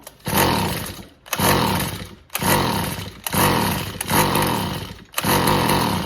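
A small two-stroke Tanaka weedeater engine, flooded with fuel, is pulled over again and again, bursting into a loud revving roar for about a second each time before cutting out, in a steady repeating rhythm.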